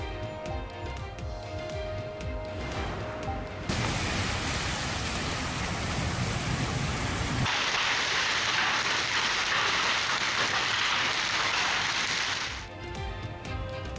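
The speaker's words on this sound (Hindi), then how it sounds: "शहर के मुख्तलिफ इलाकों में कहीं तेज कहीं हल्की बरसात।" Heavy monsoon rain in Karachi, a dense continuous roar of downpour on streets and rooftops, loud and steady with shifts in intensity and no distinct thunderclaps.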